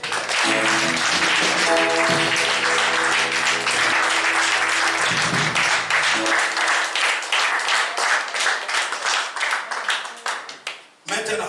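A church congregation bursts into loud, sustained applause and clapping with cheering voices, the clapping thinning into scattered claps toward the end, following sung or chanted tones at the start.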